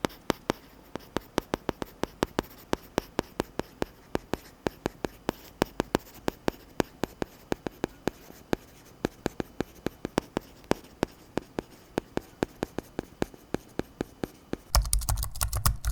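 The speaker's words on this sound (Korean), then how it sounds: "종이 필름이 장착되어 있는 제패드를 대상으로 소리를 한번 비교해보도록 하겠습니다." A stylus pen tip taps and scratches across a tablet fitted with a paper-like screen film. The quick, close, even clicks and strokes run steadily with no talk, and a brief rustle comes at the end.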